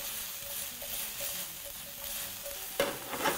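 Soy-marinated lamb stir fry sizzles in a pan, a steady close frying hiss with light rhythmic stirring scrapes, growing brighter and louder near the end.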